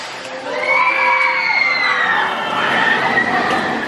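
Riders on an amusement park ride at Nigloland shout and scream together, a dense, loud burst of overlapping high-pitched voices and cheering that rises quickly and holds for several seconds.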